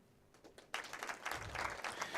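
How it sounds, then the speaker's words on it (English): An audience at a dairy product endorsement event breaking into applause, starting faint and swelling into a steady patter of clapping from a moderately distant crowd. "Can we clap?"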